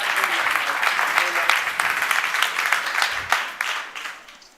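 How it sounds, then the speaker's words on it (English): Audience at a climate action and finance event gives a big round of applause for a keynote speaker, loud dense clapping that tapers off toward the end. "can I get a big round of applause for Stefan Wenzel"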